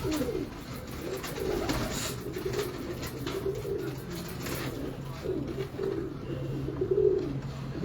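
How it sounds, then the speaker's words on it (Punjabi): Soft, repeated cooing of Shah Parwaz pigeons, low and throaty, rising and falling in short bursts over faint background hum. "ਪਿਓਰ ਸ਼ਾਹ ਪ੍ਰਵਾਸ ਕਬੂਤਰ"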